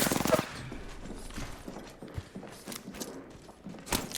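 Gunfire in Apex Legends, with quick scattered shots, mechanical clicks and rattling bursts at moderate loudness, intermittent throughout, a sharper burst at the start and again near the end.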